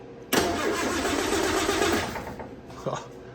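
A 1964 Triumph TR4 engine, powered by a jumper battery, cranks steadily on its starter motor for about two seconds at close range, then winds down with a brief extra whir.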